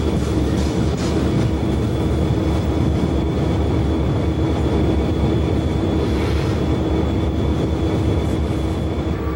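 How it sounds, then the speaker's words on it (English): A train passes on the Monongahela Railway's double main line near Clarksville, a loud, steady rumble of wheels and rolling cars holding close and unbroken throughout. "the second train heads past the WEPX train"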